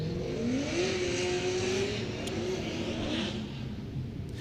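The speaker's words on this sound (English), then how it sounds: "And Odie Bakshi's really loud over there, just lighting up his Falcon tires" A drift car at a Texas qualifying event revs loudly and spins its Falcon tires, a sustained engine roar with rising and falling pitch heard from some distance under crowd and track ambience, with no talking.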